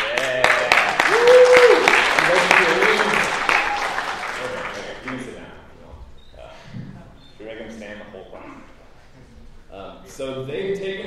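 Lecture hall audience claps for undergraduate teaching assistants in a computer science course, a dense burst of applause with a whoop that fades after about five seconds into scattered voices and talk.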